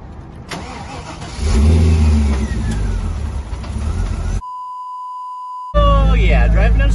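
A car starting up and driving with a failing alternator after a dead battery, engine cranking and revving loudly with whining pitch sweeps, interrupted by a steady electronic beep before the engine noise returns.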